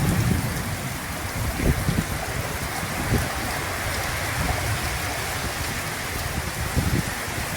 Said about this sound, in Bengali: শুধু নীরবে এই বৃষ্টির আওয়াজটা উপভোগ করুন, আপনার ঘুম চলে আসবে।